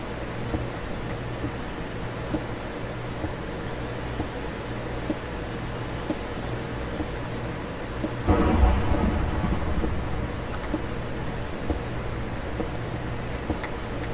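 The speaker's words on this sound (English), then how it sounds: "When it starts storming like that, dude, like, your heart just, like, drops a little bit." A thunderstorm in a Minecraft tornado mod, with steady rain hiss and a low rumble throughout and a loud thunder crash about halfway through that rolls on for a couple of seconds.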